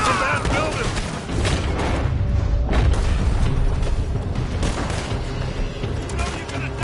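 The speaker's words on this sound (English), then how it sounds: "They're shooting from that building!" A wild west video game shootout with dense, overlapping gunfire that rattles almost nonstop. Loud booming shots crowd together with brief lulls between volleys.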